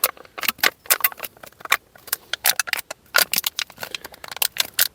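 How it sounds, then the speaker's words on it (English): An empty beer can squeezed in the middle and its sides folded down by hand, giving a rapid run of sharp, close metallic crinkles and crackles in irregular bursts, loud and with no talking. "I squish them in the middle like this, and then I fold the sides down"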